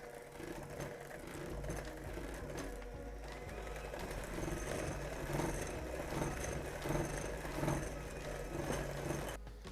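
An electric mixer runs steadily on red velvet cookie dough just after an egg and vanilla go in, a constant mid-level motor whir lasting the whole stretch with no talk.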